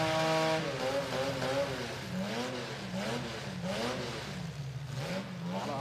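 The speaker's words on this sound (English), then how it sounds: "A lot of RPMs out of somebody, but not a lot of motion" Engines rev at a winter motorsport event, with a wavering high-RPM note that climbs and dips repeatedly as a car holds revs without moving much, heard at a moderate distance.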